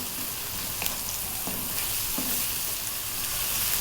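Chopped garlic frying in a pan, a dense, loud continuous sizzle with a couple of soft stirring knocks, no speech.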